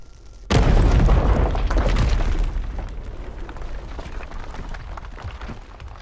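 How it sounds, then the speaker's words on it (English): A bomb detonating inside a mine in the survival game Aska: one sudden, loud, close boom followed by a long rumbling, crumbling decay of falling debris that fades over several seconds. "we will light the touch paper, and that should explode from the entrance to this torch here"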